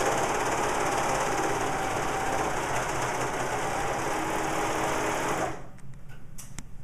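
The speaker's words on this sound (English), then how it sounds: "Notice as we're going that it's also cutting the fabric as it's sewing the stitch." A serger sews a stitch while trimming fabric, making a fast, steady high-pitched mechanical whir that runs loud and close for several seconds. It then stops abruptly, leaving a few faint clicks.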